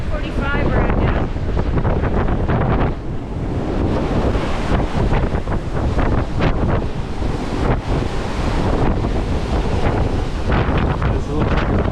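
Gale-force wind and breaking waves at sea during a doublehanded Atlantic ocean race make a loud, continuous roar with heavy buffeting and surging water across the whole stretch.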